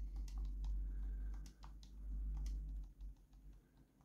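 Quiet, quick clicking taps of typing on a Steam Deck's on-screen keyboard while entering a search term, a short irregular patter under a low steady background hum.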